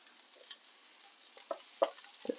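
Onion-laden meatballs sizzle over high heat in a frying pan, a quiet steady crackle broken by several sharper pops and spatters near the end.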